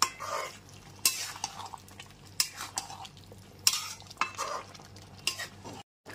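Turmeric and Kashmiri chilli powder sautéed with mutton over a medium gas flame, with repeated scraping stirs and sharp spoon clicks against the pan over a steady low sizzle, no talking.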